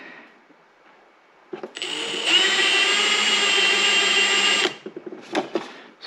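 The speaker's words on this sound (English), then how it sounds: "so you can continue drilling." A power drill whirs up to a steady high whine for a few seconds, drilling mounting holes for a Garmin GPS on an Arctic Cat snowmobile, then stops, followed by brief clunks and a short burst.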